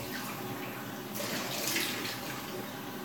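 Running water during a rinse after a shave, a continuous close splashing hiss from a tap with no pauses, swelling slightly in the middle before easing back.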